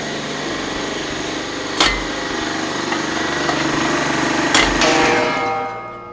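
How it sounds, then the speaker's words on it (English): A workshop air compressor runs steadily and loudly nearby, a continuous mechanical drone with two brief knocks standing out before it tapers off near the end. "As I said before the compressor interrupted me, it should be okay."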